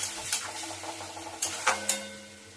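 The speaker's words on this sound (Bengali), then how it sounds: "এটা দিয়ে ভালো করে নাড়াতে থাকবো।" Tomato, cashew and coriander stem paste sizzles in a pan with fried onions for an egg butter masala, stirred with repeated scraping strokes and a few louder utensil knocks near the end; close, no voices.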